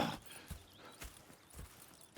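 Horse hooves clip-clop at a relaxed walking pace in Red Dead Redemption 2, a regular series of soft, close thuds over a quiet outdoor ambience.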